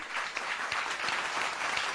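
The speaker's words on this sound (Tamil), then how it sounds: "ரெண்டு பக்கமும் சமமா கை தட்டுறாங்க" Studio audience at a Tamil TV debate show applauding for the Nagapattinam side against Madurai, a full, sustained burst of many clapping hands with no talk over it.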